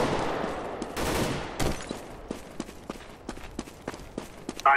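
Auto sniper rifle gunfire in CS:GO: a dense burst of rapid shots up front, then a series of sharp, evenly spaced single cracks with short pauses between them, loud and close.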